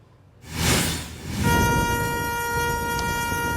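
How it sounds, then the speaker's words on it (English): Tornado sirens in Meadville, Missouri: a loud, steady electronic siren tone with layered harmonics sounds out after a burst of wind-like noise and holds constant, with no voices. "that is the sound of tornado sirens blaring in Meadville"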